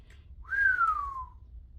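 One person whistles a single clear note that rises slightly and then slides steadily downward, alone against quiet background hum.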